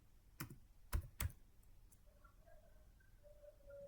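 Someone types on a computer keyboard, a few sparse, quiet clicks early on with a faint background hum.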